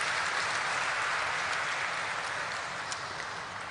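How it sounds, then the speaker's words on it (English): An audience applauds a guest at a stock exchange IPO listing ceremony for Radiant Cash Management, a dense, even wash of many hands that holds steady and then eases slightly toward the end. "Let's have a huge round of applause for him"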